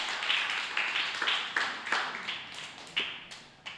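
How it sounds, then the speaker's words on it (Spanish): A church congregation claps in scattered, uneven bursts, the applause thin and fairly quiet rather than a full roaring ovation. "Denle un fuerte aplauso al Rey de Reyes y Señor de señores."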